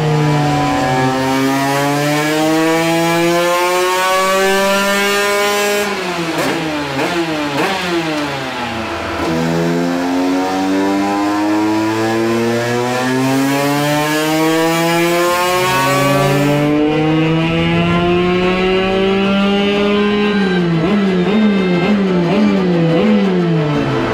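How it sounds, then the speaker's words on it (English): A fuel-injected 2023 Husqvarna 125 two-stroke motorcycle revs hard on a dyno, its loud, close engine climbing and falling through repeated sweeping pitch runs with no talk over it. "you just completed your first ever run on the dyno on the new 23 Husky 125."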